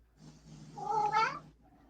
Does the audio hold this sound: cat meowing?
yes